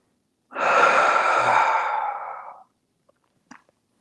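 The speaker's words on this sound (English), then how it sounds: "Breathe deep." A single long, deep exhale during a yoga session, close and clear, with breathy rushing lasting about two seconds, followed by quiet and a couple of faint small noises.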